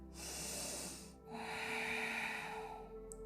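Yoga breaths in a vinyasa flow session: a close, breathy hissing exhale, then a second longer airy breath with a rough, slightly nasal tone, heard alone without talk.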